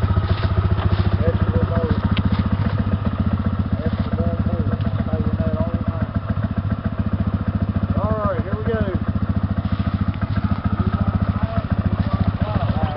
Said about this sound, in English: she's never rode a four-wheeler before